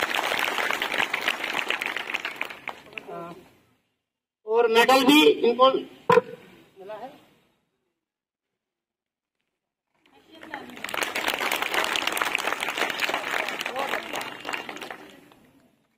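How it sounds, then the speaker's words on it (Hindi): Clapping from a school prize ceremony audience honouring under-19 runners-up, two broad bursts of steady applause separated by a short stretch of speech and a long pause, moderately loud and close. "इसके लिए तालियां बजाएं आप"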